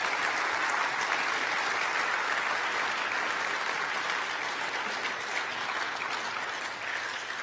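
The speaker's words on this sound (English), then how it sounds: "give up a big applause for Evan Yu, everybody." A conference crowd at vuejs.de Conf 2024 applauds after a Q&A session, a steady wash of many hands clapping at even volume for several seconds before easing slightly at the close.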